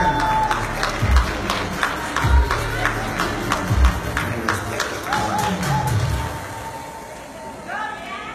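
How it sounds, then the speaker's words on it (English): An audience at a Raya kids' wear fashion show claps and cheers from a moderate distance, a steady patter of applause with a few louder thumps, fading toward the end. "Let's give them a big round of applause,"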